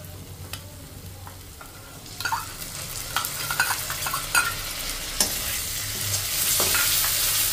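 Ginger garlic paste stir-fried into onion paste in hot oil, a low sizzle building as spoon scrapes and stirring clatter come in irregular bursts, close and without talk.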